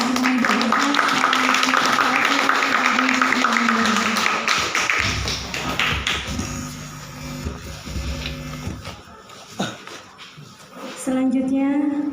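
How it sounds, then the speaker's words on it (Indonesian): Steady, dense applause from an audience at a farewell ceremony for Ibu Mega fills the room, then thins into scattered claps and taps before a voice comes in. "Marilah kita beri tepuk tangan kepada Ibu Mega."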